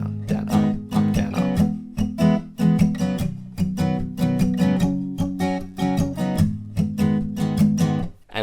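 Palm-muted acoustic guitar strumming the verse of a song, a steady, choppy down-up rhythm of short damped strokes played alone at moderate volume.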